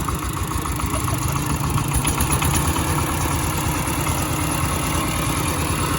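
A farm tractor engine idling steadily, a continuous rough mid-low rumble with dense rapid pulsing, close and constant for several seconds with no voices over it.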